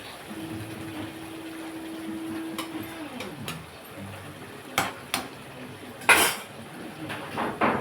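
Egg curry being turned in a cooking pan, with sharp metallic scrapes and clinks of a utensil against the pan following a steady hum that cuts off, all fairly close.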